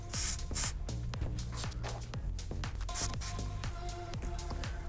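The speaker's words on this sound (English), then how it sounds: "you can go back over it with one more good spray of a nice strong hold hairspray" Strong hold hairspray misted onto fine, straight short hair, several short hissing bursts close by with soft rustling and handling noises between them.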